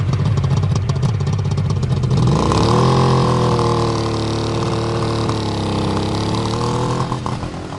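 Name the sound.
1972 Suzuki GT550 motorcycle engine running, heard at exhaust pipe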